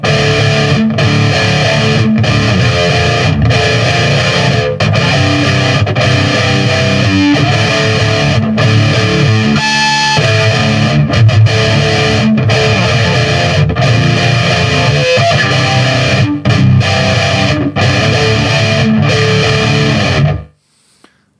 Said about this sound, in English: it's a more scooped, more saturated lead sound